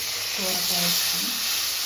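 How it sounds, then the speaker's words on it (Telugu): Chopped bottle gourd and tomato stirred into a hot oil tempering for sambar, a dense close-up hiss and sizzle running steadily under faint tonal scraping, with no talk. "సొరకాయ టమాటా వేసేసుకోండి పోపులో."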